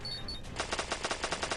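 Rapid automatic gunfire in the Stickman Gun video game, a burst of about a dozen sharp shots in quick rhythm after a brief electronic tone.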